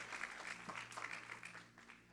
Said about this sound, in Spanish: Vamos a darle un fuerte aplauso a todos los que están conectados.